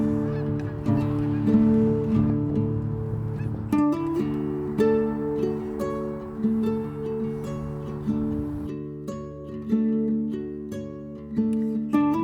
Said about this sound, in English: a flock of geese and ducks came in